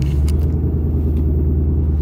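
A turbocharged car pulls hard through a gear, a loud low engine rumble heard from inside the cabin, steady and close throughout, with no speech.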